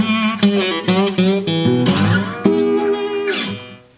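Acoustic slide blues lick in open E tuning, with gliding bent notes and sliding pitch over picked strings, played up close and alone for about four seconds before ringing out.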